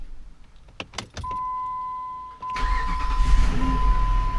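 A 2005 Jeep Grand Cherokee with a newly replaced starter: a few key clicks and a steady dashboard chime come first, then the engine cranks, catches and settles into a loud, rough-edged idle nearby.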